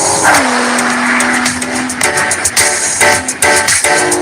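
An Acura hybrid sports car with a mid-mounted twin-turbo V6 and electric motors is driven hard, with a loud, steady engine roar and a rising tonal whine early on, then choppier bursts of revving and shifting near the end.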